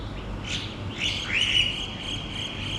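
Birds chirp and tweet in short, bright calls, a few scattered bursts over steady outdoor background hiss.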